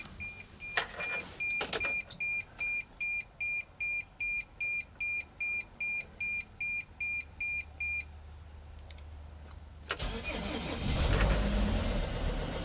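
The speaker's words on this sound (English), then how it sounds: "Going to do a cold startup for this 2006 Dodge Sprinter 3/4 ton." Cold start of a 2006 Dodge Sprinter 2500 diesel van, 3/4 ton: a steady run of rapid warning beeps, then the engine cranks and catches into a loud, close, rough low idle rumble, with no talking.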